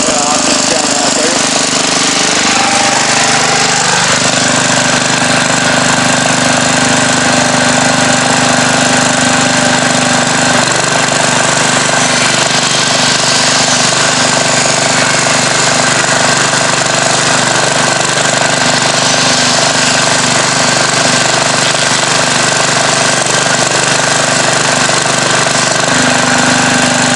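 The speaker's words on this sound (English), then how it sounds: "Now we're going to see how good she does with the grinder on it." Kohler generator running loud and close with a grinder plugged in, a steady rough engine drone whose tone shifts as the load comes on, with a voice briefly talking over it.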